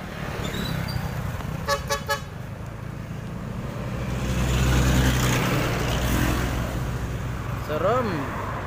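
Big trucks pass on a busy road, engines rumbling close by, with a few short horn toots and a swelling roar as a heavy vehicle goes past; people talk over the traffic.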